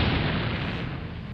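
A continuous loud, rumbling blast roars through the full moment in the Need for Speed Most Wanted racing game, dense and booming, with no distinct separate bangs.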